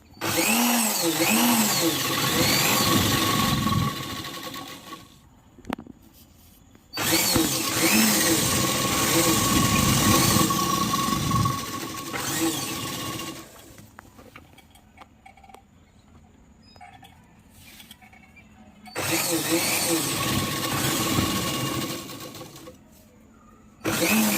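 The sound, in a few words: sewing machine stitching petticoat waist seam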